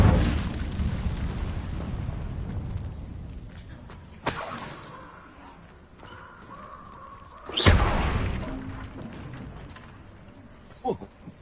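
A fire spell cast in Hogwarts Legacy, heard as sharp whooshing bursts of flame near 4 and 8 seconds with a low rumbling roar between them, a player's voice exclaiming over it.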